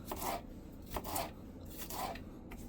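Kitchen knife slicing a bell pepper laid skin side down on a cutting board for chicken fajitas, three soft crisp cuts spaced about a second apart over a low background hum, close and fairly quiet.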